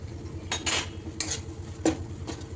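A spoon scraping and stirring red chilli powder and misal masala through white pea misal in a pan, a few separate soft scrapes against the metal over low background noise.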